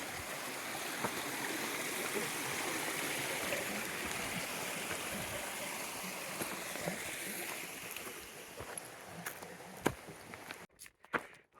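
A river on the Pacific Crest Trail near Belden flows with a loud, steady rushing wash. Occasional footsteps and light knocks rise near the end, and the water sound briefly cuts out.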